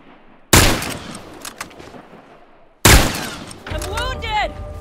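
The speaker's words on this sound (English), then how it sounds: "Careful, man! He's got a rifle!" Two loud, sharp rifle shots ring out in The Last of Us, each a sudden blast with a lingering echoing tail, a couple of seconds apart, with a shouted voice briefly after the second.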